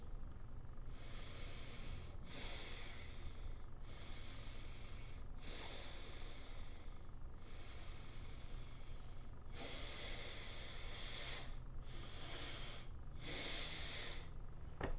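Forceful nasal breathing during a warm-up for competition or tough training: a steady run of strong hissing breaths in and out through the nostrils, about eight bursts in fifteen seconds, close to the microphone with no talking.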